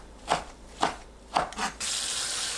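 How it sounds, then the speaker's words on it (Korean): Knife cutting boiled dried radish greens (siraegi) into 1 cm pieces on a board, three or four distinct close strokes spaced about half a second apart, followed by a burst of steady hiss. "시래기를 1cm 간격으로 썰어주세요."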